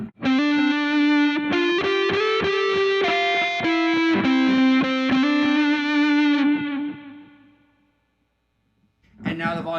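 Fuzz-distorted electric guitar through an HX Stomp Helix with the guitar volume all the way up, playing a run of loud sustained chords and notes for about seven seconds, fading out, then a new strum at the end.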